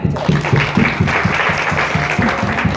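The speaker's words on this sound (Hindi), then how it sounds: "तालियां हो जाए।" Loud applause from students at a college training session, clapping close and energetic with a pulsing, somewhat rhythmic beat throughout.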